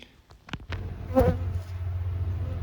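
A steady, close mass of honeybees buzzing during a hive trap-out, a low continuous hum with a few soft knocks and rustles near the start.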